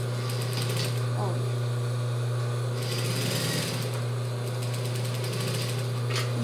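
A sewing machine runs in steady bursts while stitching fabric for a child's jumpsuit, its motor hum continuous and close under speech.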